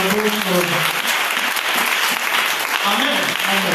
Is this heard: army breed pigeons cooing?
no